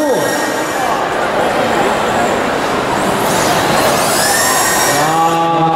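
RC drift cars accelerate at the 2019 Qingdao competition, their motors a loud, continuous high-pitched whine with rising pitch sweeps, crowd-like din underneath and a voice audible over it.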